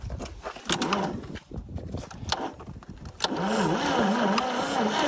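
A 1940 Chevy truck engine idling and revving close by, with burned-up points and the crankshaft striking the dipstick; a rough, loud running note that surges with added throttle and settles into a steady, uneven drone.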